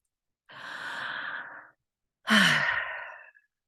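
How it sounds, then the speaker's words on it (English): Two deep breaths, a long smooth inhale followed after a pause by a stronger, louder exhale, close and clear with nothing else around them. "So let's just take a deep breath together."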